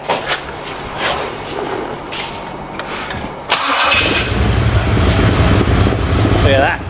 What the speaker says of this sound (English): start the Jag again